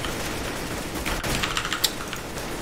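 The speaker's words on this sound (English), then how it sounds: "grease gun spread is so bad. I don't like the grease gun." A grease gun fires in a Roblox shooter game, a quick burst of rapid shots over a busy, noisy game background, fairly faint and without talk.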